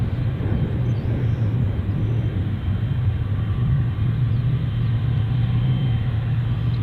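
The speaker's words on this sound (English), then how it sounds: "here's China Airlines. That's the 777 if I've ever seen one" A China Airlines Boeing 777 takes off from O'Hare International Airport, a loud, steady low jet rumble with a constant engine drone, heard from near the runway with no talk.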